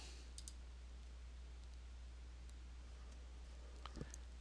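A computer mouse clicking a few times in the TK Actions panel of a Photoshop tutorial, faint and sharp, with a couple of clicks early and another near the end over a quiet steady hum.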